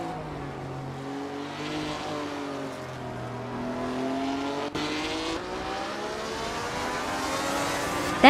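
Vintage Formula 1 race cars, among them a Honda and a Lola Mk IV Climax, roar around a tight-cornered circuit, engines revving and shifting steadily with overlapping passes and a sharp burst at the end.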